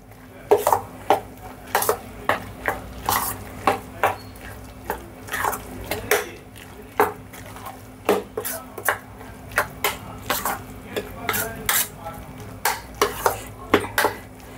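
Masala vada batter with finely chopped curry leaves mixed by hand in a bowl, loud rhythmic clacks and knocks repeating steadily, close and alone.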